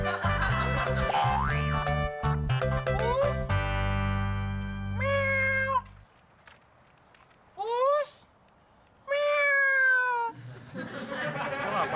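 A voice imitates a cat with three drawn-out, rising meows separated by short pauses. They come after a burst of loud, bouncy music, and quieter music returns at the end.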